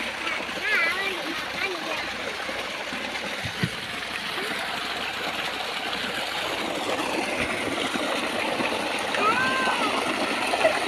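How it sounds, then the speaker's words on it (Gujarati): Water flowing and splashing steadily into a field, a continuous burbling stream with voices talking faintly over it. "વાડીમાં પાણી જવા માંડ્યું"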